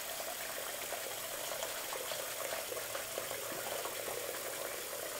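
Water runs steadily from a sink tap as it is filled before a safety-razor shave, a constant close hiss and splash with no speech.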